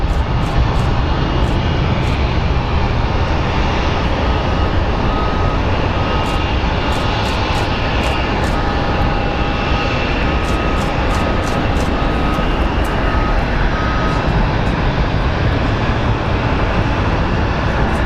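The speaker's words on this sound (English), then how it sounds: "That is one big plane getting ready to lift off." A large airliner takes off at Phoenix Sky Harbor Airport, its jet engines a loud, steady, close roar that fills the whole stretch without letting up.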